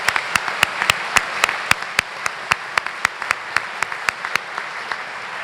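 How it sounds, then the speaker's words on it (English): An audience at a Boy Scout Eagle Class dinner gives a brief round of applause, heard as a sparse, fairly steady series of distinct individual claps close by, with no talking over it. "Let's give them a round of applause."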